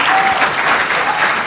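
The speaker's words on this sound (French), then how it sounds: "Applaudissez." Audience applause at a community event honouring young people who received academic medals, a dense, steady wash of clapping filling the whole moment at close range.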